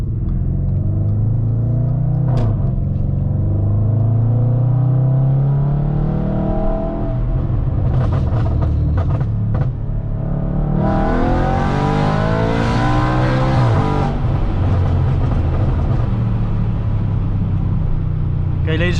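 A loud, raspy straight-piped Audi RS4 B8 accelerates through several gears, pitch climbing and dropping with each shift, with crackles and pops and a deep rumble throughout.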